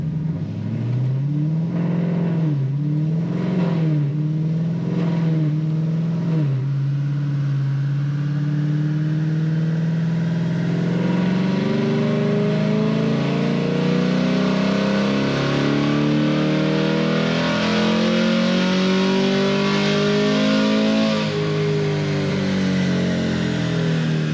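A 6th gen Camaro V8 with new headers roars through a full dyno pull, climbing from a low burbling idle into a long, loud, steadily rising rev that holds near the top and then eases back, close and continuous.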